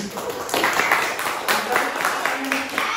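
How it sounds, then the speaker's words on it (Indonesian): A live audience at an Indonesian sit-in event bursts into steady applause after a correct answer about agriculture, sustained clapping close by for about three seconds with voices mixed in. "Tepuk tangan"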